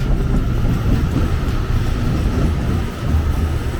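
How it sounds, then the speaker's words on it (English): A train passing at Autódromo station in São Paulo, Brazil, a steady broadband rumble and rush of wheels and air that stays loud and close throughout, with a brief dip before swelling again at the end. "There's another train."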